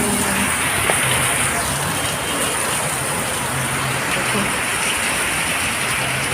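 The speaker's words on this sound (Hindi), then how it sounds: "कितनी बारिश आया है" Heavy rain pours steadily with wind, a dense, constant hiss of downpour over a city that floods, while someone speaks over it throughout.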